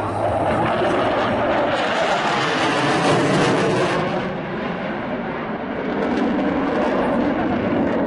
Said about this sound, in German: In die Vertikale, jetzt wird zurück, er zieht die Leistung ab, lässt das Flugzeug aufschießen.